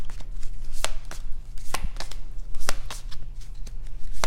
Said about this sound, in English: this is how I shuffle so that they come flying